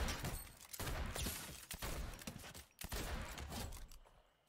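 A gun fires in Fortnite as fast, faint bursts of rapid shots in quick clusters, pausing briefly between volleys and fading out at the end.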